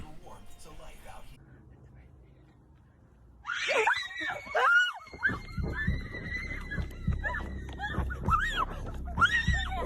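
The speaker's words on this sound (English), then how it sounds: "The group hears a terrifying scream and runs back to the car." A loud, shrill scream bursts out after a quiet stretch, followed by rising, wavering cries and agitated voices that continue at close range.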